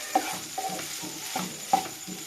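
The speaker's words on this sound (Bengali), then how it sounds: "তো এবার আমি এটাকে ভালো করে নাড়িয়ে নিয়ে এর মধ্যে দিয়ে দেব সেই ভেজে রাখা ডিমটা" A utensil repeatedly scrapes and stirs a fried coconut and vegetable filling in a pan, with a soft sizzle under the rhythmic strokes, close by and fairly quiet.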